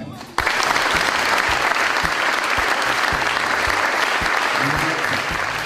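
Warm audience applause for the French building-trades construction team at an official presentation, a dense sustained wash of clapping that bursts in abruptly and holds steady at full strength, with a few low thumps underneath.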